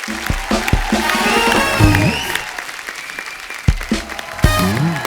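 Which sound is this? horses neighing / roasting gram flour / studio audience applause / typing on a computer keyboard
studio audience applause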